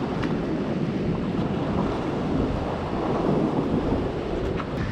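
Steady wind buffeting the microphone over continuous ocean surf along the rocky shore at Estero Bluffs, a loud, unbroken wash of noise with no distinct wave breaks.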